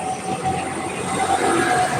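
A train rolls past in a continuous, loud rumble with a faint tonal whine, heard alone for about two seconds.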